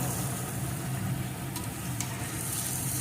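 Pointed gourd pieces fry in a pan with only salt and no turmeric, a soft, steady sizzle heard close and faint with no talking.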